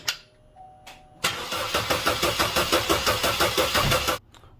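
A Chevy Cruze engine cranks on the starter with a steady, loud rhythmic chugging for about three seconds, fitted with a new timing cover and oil pump and turning over without firing while oil is primed.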